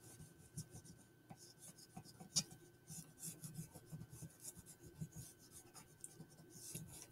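Crayon rubbed back and forth over a leaf laid under paper makes soft, faint scratchy strokes in an uneven rhythm, quiet and close with no talking.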